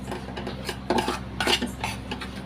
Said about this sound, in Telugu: ఇప్పుడైతే కప్తో బాగా కలుపుకోవాలి.